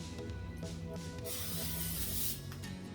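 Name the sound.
nonstick cooking spray being sprayed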